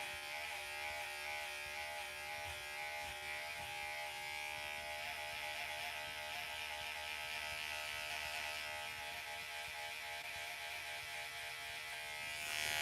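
Electric hair clippers fitted with a #4 guard cut hair during a self-done buzz cut taper fade, making a steady, close, unbroken buzz throughout with no talking.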